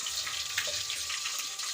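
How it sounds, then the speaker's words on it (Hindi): Onion sizzling in ghee inside a cooking pot, a steady soft crackling hiss that holds without pause for a short stretch, with no talking. "ये हमने अब प्याज घी हमने पतीली में डाल दिया है।"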